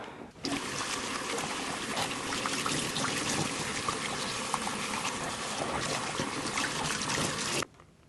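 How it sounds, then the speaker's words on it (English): Tap water runs steadily into a sink while plant roots are rinsed clean, a continuous close splashing trickle that starts abruptly and cuts off near the end. "Let's go rinse these roots off because they are messy."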